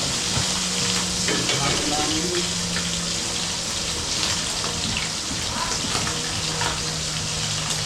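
Food sizzles and crackles steadily in hot oil, a dense, continuous frying hiss up close, with faint voices in the background.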